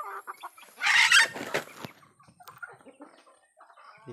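Chickens cluck and squawk nearby, with one loud burst of agitated cackling followed by softer scattered clucks.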